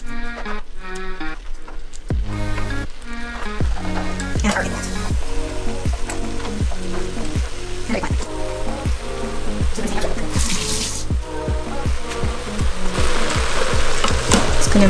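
Vegetables sizzle in a hot pan for a quinoa veg khichdi while being stirred, with a steady run of rhythmic scraping strokes under continuous frying hiss that grows louder toward the end.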